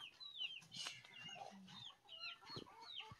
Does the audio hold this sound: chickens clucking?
yes